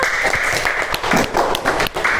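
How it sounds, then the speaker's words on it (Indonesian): Classmates applaud a student in a classroom, a short, uneven round of clapping with distinct individual hand claps standing out in a loose, irregular rhythm. "Beri tepuk tangan untuk Mbak Kartika."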